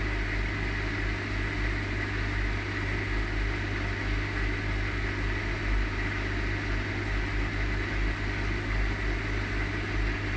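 A Hotpoint HE7L492 washing machine runs a Cotton Standard cycle, spinning a balanced load at 300 RPM with a steady low motor hum and a soft rhythmic drum whir, close and even throughout with no talking.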